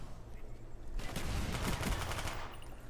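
Rapid automatic gunfire in a shooter video game, a dense burst of sustained shots lasting about a second and a half, loud and close, over steady game background noise.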